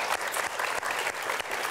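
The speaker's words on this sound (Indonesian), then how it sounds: "Zagifa Kinasih Gusti, tepuk tangan." Studio audience on a children's TV talk show breaks into dense, loud applause, continuous clapping from many hands filling the short stretch.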